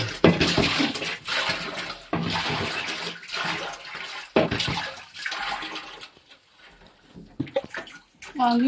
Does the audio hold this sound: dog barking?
no